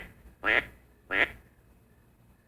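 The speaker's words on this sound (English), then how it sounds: "If you never learn another thing on the duck call, that call right there can be very, very effective" Two short, loud, nasal quacks are blown on a duck call, spaced well apart and close to the listener, with quiet gaps around them.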